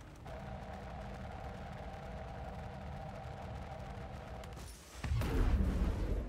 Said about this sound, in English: Torpedo lock. Fire.